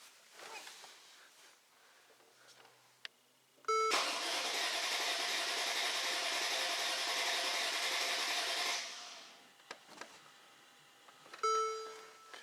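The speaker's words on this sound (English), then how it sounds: "cranking no start and take the measurements" A Mercedes with a misfire cranks without starting, the starter churning in one steady, loud burst of about five seconds, with beeps and quieter clicks around it.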